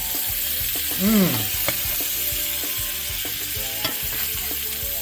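Blackened salmon sizzling steadily in a hot pan as butter is spooned over it, a continuous frying hiss with scattered clinks of the basting spoon and a brief voiced exclamation near the start.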